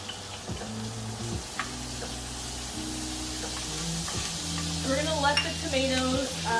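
Tomatoes seasoned with pepper sizzle and spatter in a hot skillet, a steady frying hiss with occasional stirring scrapes, close and moderately loud, no talk.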